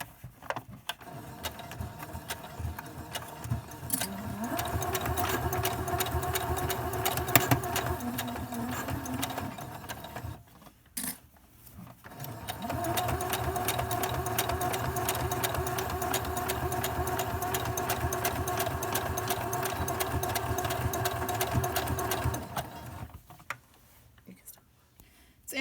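A sewing machine stitches a zipper pouch in two long continuous runs, each a steady close whirring hum, with a brief pause and quiet handling between them and a softer tail at the end.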